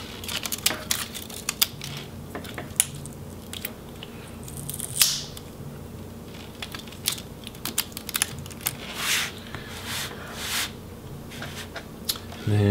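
Internal cable connectors being unplugged inside an Acer Aspire 5 A515 laptop, giving scattered small clicks and plastic taps, faint and close, with soft handling noise between them.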